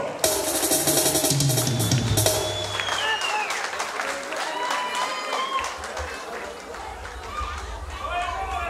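Wedding guests applaud for Sepcho, a burst of clapping and crowd noise under lively chatter and music, with voices talking over it throughout.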